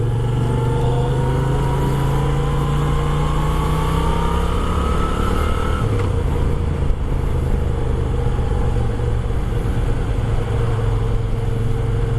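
Moto Guzzi V7 II motorcycle accelerating steadily under constant road and wind noise, its engine note rising and then shifting about midway, heard from on the bike.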